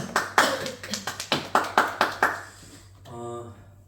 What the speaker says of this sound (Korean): 하나님께 감사의 박수 드리겠습니다.